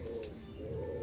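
Pigeons kept at home, medium-sized birds, give a low steady cooing drone close by, with no voices.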